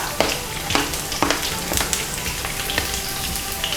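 Garlic and green chilies sizzle in hot oil in a pan, crackling steadily with sharp pops and a soft stir, alone and close.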